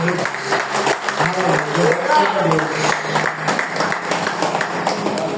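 A church congregation claps in praise of the Lord during a worship service, a steady wash of applause running the whole way, mixed with voices that carry over it.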